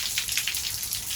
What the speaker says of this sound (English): now we're just getting steady rain, which honestly we needed